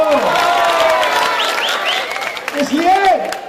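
Crowd applause at a political rally, a steady broadband roar lasting the whole stretch, with a loud voice shouting and speaking over it.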